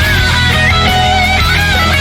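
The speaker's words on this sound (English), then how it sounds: "you can also hear the electric guitar" Loud, dense music driven by heavy distorted electric guitar with sustained chords and no pauses.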